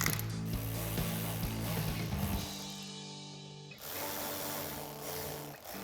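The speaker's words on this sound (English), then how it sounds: "we'll tighten these up with my 8mm socket and your 10mm socket" Ratcheting socket wrench with 8mm and 10mm sockets tightening fender flare screws on a 2009-2018 RAM 1500, a steady run of close, rapid mechanical clicks with one short pause partway through.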